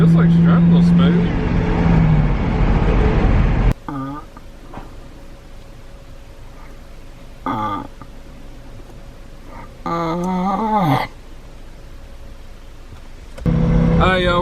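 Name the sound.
supercharged Ford Crown Victoria engine running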